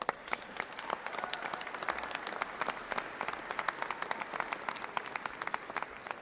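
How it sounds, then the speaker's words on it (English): A crowd at a Pennsylvania political rally claps and applauds, a steady patter of many hands with sharper individual claps standing out, heard at a moderate distance with no voices over it. "Thank you for that big round of applause."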